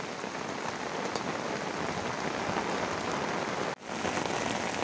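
A heavy downpour pelts a pasture in a dense, loud, continuous hiss of falling rain, with one brief dropout near the end and no talking.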